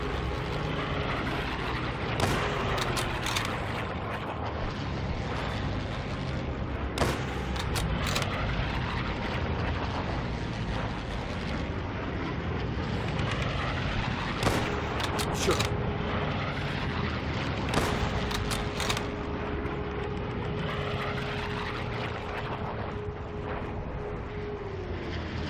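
A steady, heavy drone of bomber engines fills the scene, broken by a few sharp rifle shots spaced seconds apart, in the war video game Call of Duty: World at War.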